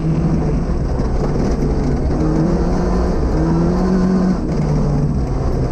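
A Datsun P510 rally car drives a gravel stage at the Algoa Rally, its engine droning loud and steady with shifting pitch under heavy rumbling road and wind noise.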